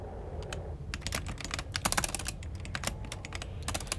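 Rapid keyboard typing, commands entered on a computer keyboard while playing the game Duskers, with clusters of sharp key clicks in irregular bursts over a steady low background hum; no talk during the clip.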